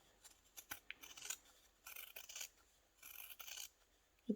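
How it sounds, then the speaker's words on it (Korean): Sewing scissors trim the curved fabric seam allowance of a pouch down to five millimetres, making quiet, crisp snips in irregular bursts, close up with no voices. "이제 시접을 5mm만 남기고 잘라서 시접 정리해 주는"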